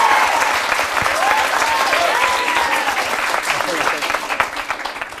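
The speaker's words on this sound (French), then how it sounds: "Je vous demande d'applaudir Madame France de Carlo." A studio audience on a television debate show applauds a guest being introduced, a dense, even wall of clapping held close and loud throughout, with faint voices beneath.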